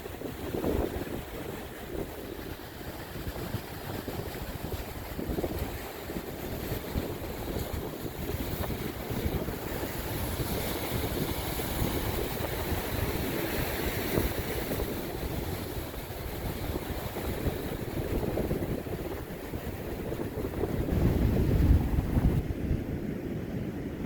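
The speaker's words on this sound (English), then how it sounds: "The waves are breaking up." Ocean waves break and wash onto a beach under strong gusting wind, a continuous rough roar with swells of surf and heavy wind buffeting close to the microphone.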